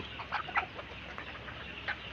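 Native chicken chicks peep on a farm's brooding pen, giving a few short, high chirps at a moderate level over a steady background hiss, with no talking.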